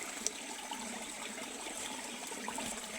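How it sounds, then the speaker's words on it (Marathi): A spring's water trickling and gurgling steadily from its source among pools, a continuous soft wash of flowing water with no one speaking. "या ठिकाणावरून हे पाणी वाहत आहे बघा"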